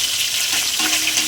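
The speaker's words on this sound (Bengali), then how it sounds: "মাথাগুলো আমি ভেজে নেব।" Fish heads rubbed with salt and turmeric fry in hot oil in a wok, giving a steady, close, dense sizzle and crackle throughout with no voices.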